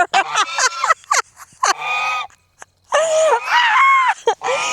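A goose gives loud, close honks and harsh squawks in several bursts with short pauses, some notes rising and wavering, alone without talk.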